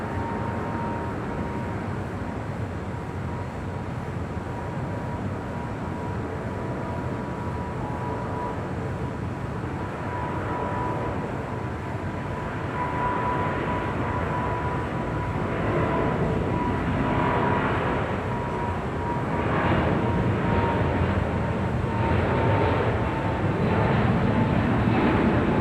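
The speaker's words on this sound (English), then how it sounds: "we got the 777 heading to Honolulu. Now rolling down at 25 right." A Boeing 777 heavy bound for Honolulu takes off on runway 25 right at LAX, a steady, broad jet roar from a distance that slowly builds in loudness over the whole stretch.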